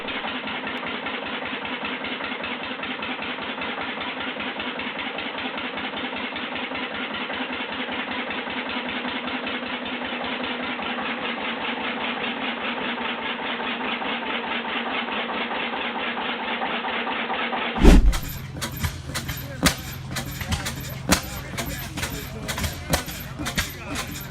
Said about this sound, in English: The 15-horsepower Bovaird & Co. half-breed engine showcased at the Ameia show in Port Allegheny is a vintage stationary power unit